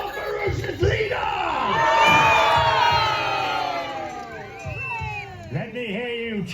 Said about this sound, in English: House of Lancaster, give us a cheer if you'll follow your warrior queen.